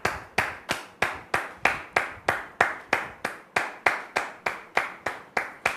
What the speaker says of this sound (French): Recevons maintenant le frère Martial sous vos applaudissements